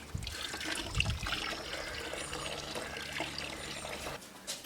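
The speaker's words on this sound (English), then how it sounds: "A few pumps to get the water started." Water runs steadily from an Amtech manual siphon pump after a few priming strokes, a continuous close trickle and splash that carries through the clip and cuts off near the end.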